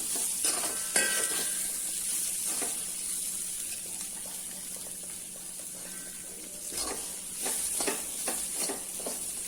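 Masala-coated jackfruit seeds frying in oil in a pan while being stirred, a continuous close sizzle with scraping spoon strokes in bursts near the start and again toward the end.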